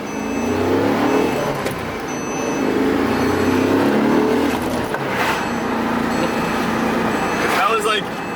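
A Porsche 911 fitted with a stock GM engine block drives along, its engine a steady loud drone that swells as it accelerates, heard from inside the car with people talking over it.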